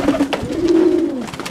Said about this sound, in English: how my fantail doves are getting on